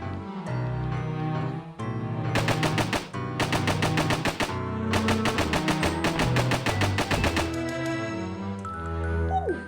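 Rapid automatic gunfire in a video game comes in several long, loud bursts of fast, evenly spaced shots, separated by short pauses.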